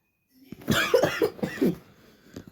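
A person with a bad cough coughs several times in quick, close bursts, harsh and throaty, with brief pauses between them and one more cough trailing off at the end.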